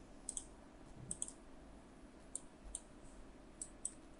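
Computer mouse clicks while drafting in AutoCAD: sharp, quiet clicks, some in quick pairs, spaced irregularly over faint room hiss with no voices.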